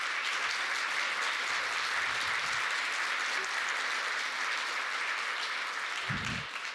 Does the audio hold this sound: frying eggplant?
no